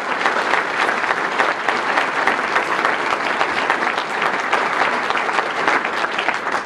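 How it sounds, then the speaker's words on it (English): A dense, steady round of applause from a large crowd at the Nebraska Republican Convention fills the hall, loud and continuous without a break. "Can I hear a great round of applause for your very own Deb?"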